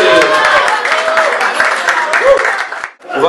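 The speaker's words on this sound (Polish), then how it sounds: "Brawa dla Renaty!" Audience applause for Renata at a guest event at the Tyskie Browarium, a dense, steady clapping that stays loud for about three seconds with voices mixed in, then dips briefly near the end.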